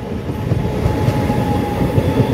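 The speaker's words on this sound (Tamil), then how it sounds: "இதுதான் எங்களோட ட்ரெயின்." A train rolls past nearby, a continuous loud rumble of wheels and carriages with rhythmic clatter and no speech over it.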